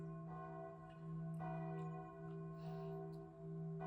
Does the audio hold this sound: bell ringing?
yes